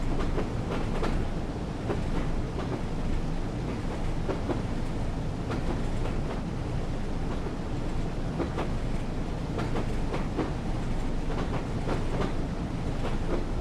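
A train in Train Sim World 4 rolls along the rails in Sydney, Australia, with a continuous low rumble and rhythmic clickety-clack of wheels over rail joints, steady and close throughout.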